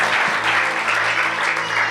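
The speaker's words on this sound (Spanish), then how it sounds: "Dele una fuerte ofrenda de palmas al que vive y reina por siempre." A church congregation claps in a sustained round of applause for the full two seconds. The sound is loud and dense, with no voices above it.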